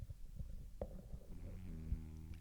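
A person's stomach rumbles in a quiet room, a soft low gurgling that swells into a sustained growling tone near the end.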